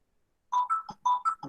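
Phone ringing during an online class, a repeating electronic ringtone of short tonal beeps in two quick bursts after a silent start, clear and fairly close with no talk over it.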